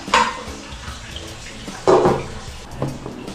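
A metal lid goes onto a cooking pot of potatoes and vegetables, two or three clattering knocks with a longer ringing clang in the middle, close and fairly loud, with no voice.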